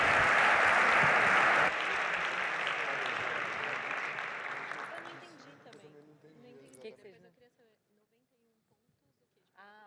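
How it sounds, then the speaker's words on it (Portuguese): Conference audience applause at a hackathon event, loud dense clapping from a crowd that holds for a few seconds, then thins and fades out, leaving scattered claps and some talking behind it. "Salva de palmas, pessoal."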